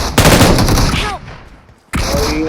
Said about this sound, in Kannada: short gun